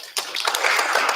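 Audience applause at a community council meeting starts abruptly and continues as a close, steady burst of clapping hands.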